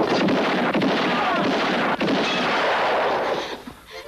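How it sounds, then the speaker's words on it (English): Gunshots in an old Hollywood drama film: a loud, dense burst of rapid firing that fills the moment almost continuously before trailing off at the end. "Someone shooting."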